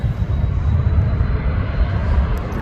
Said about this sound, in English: Now that aircraft now's on the runway,